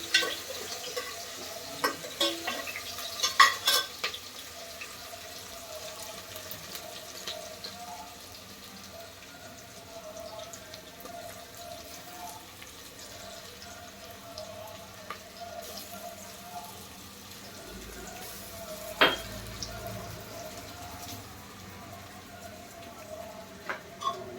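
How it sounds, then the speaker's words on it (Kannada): Vegetables for veg kurma fry quietly in a pan on the stove, a low steady sizzle with occasional stirring clatters and scrapes, while a voice speaks faintly at times. "ಫ್ರೈ ಆಗಲಿ ಅದು."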